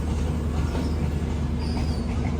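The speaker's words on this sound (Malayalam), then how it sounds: "നമ്മുടെ വണ്ടി ഇവിടുന്ന് എടുത്തു." A Humsafar Express train pulls out of the station with a loud, close, continuous rumble of wheels and carriages, a deep steady roar and a faint high squeal near the end.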